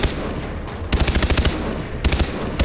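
Weapon fire while hunting animals in the Far Cry 3 shooter game comes as two rapid bursts of automatic gunfire, loud and close, split by a short lull of quieter game background.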